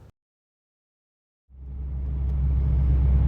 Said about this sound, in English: let's take this car for a ride down the road.